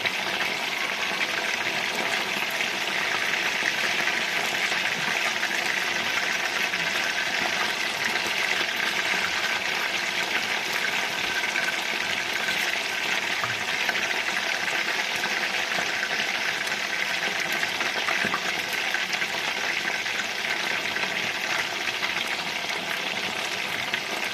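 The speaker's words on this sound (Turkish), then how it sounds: "Kızartıyorum ben de." Chicken breast, marinated in mineral water and spices, fries in cooking oil, giving a steady, even sizzle that runs unbroken for the whole length with no one talking.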